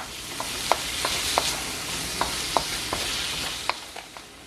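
Diced pineapple goes into sizzling shrimp fried rice in a hot pan, a continuous frying hiss broken by roughly a dozen light scraping and clinking stirs at irregular intervals.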